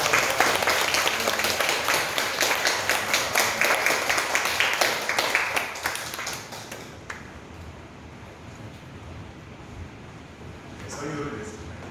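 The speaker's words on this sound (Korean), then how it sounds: "축복의 박수." A church congregation at a Sunday worship service breaks into rhythmic applause right after a prayer. The clapping is loud for about six seconds, then drops off into a quiet room, with a brief murmur of voices near the end.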